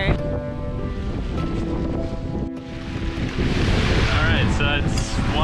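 Sailboat under sail on a tack at sea, with a steady wash of waves and gusting wind buffeting the microphone, loud and continuous throughout.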